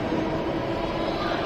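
A metro train rumbles steadily at a station on the way to Malleshwaram, a continuous broad mechanical roar with no break and no voices.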